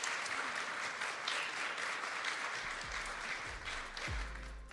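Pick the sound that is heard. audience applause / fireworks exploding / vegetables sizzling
audience applause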